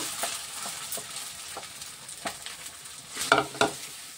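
Lentil paste going into a pan with ginger and green chilli paste for dhoka, with soft frying sizzle and spoon stirring scrapes, a few louder clatters near the end.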